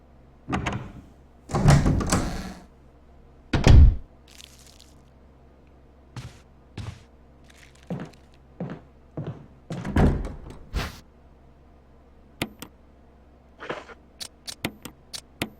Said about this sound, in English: Did you guys hear like a door?